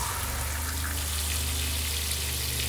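Water runs from an RV faucet while antifreeze is flushed during de-winterizing of a Grand Design Imagine XLS 17MKE trailer, a steady, close, even rushing stream with no talk over it.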